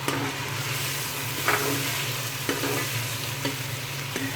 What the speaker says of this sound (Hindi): अब इसमें जाएंगे टमाटर, जो मैंने 4 बड़े साइज़ के ले लिए थे, उसको इस तरह स्लाइस में निकाल लिया, काट लिया।